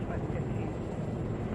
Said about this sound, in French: On va immédiatement décoller dans cet hélicoptère de combat